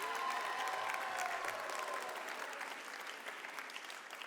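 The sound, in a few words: audience applause for professor and choir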